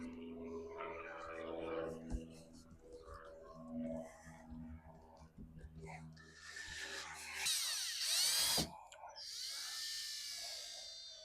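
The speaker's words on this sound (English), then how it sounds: "take off this hardtop and do some drilling" Power drill boring into a Jeep hardtop during a roof rack install, with short whining bursts building to a loud grinding spell near the end, mixed with handling noises and people talking.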